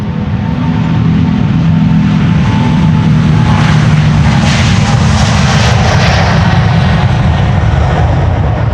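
A KLM airliner departs Amsterdam Schiphol Airport with a loud, close, continuous engine roar and deep rumble that persists unbroken throughout, no voices.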